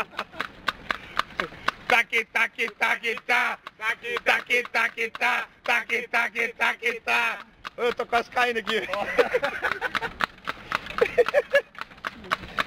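Horse hooves clip-clop in a steady, close rhythm as riders arrive at a New Year's Eve gathering in Tiradentes, with people chatting over the hoofbeats.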